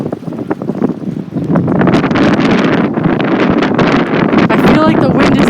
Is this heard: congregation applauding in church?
no